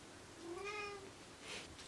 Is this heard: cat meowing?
yes